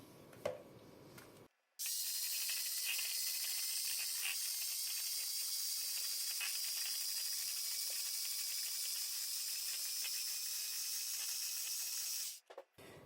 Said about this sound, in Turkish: Şekerimi ve yumurtamı da bir güzel çırpacağım.